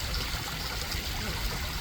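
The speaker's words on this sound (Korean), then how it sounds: "지금 밖으로 떨어지는 소리, 나가는 물소리가 들릴 겁니다." Water spills from the overflow drain pipe of a landscaped ecological pond in an apartment complex, making a steady, close trickling and splashing that runs alone without any break.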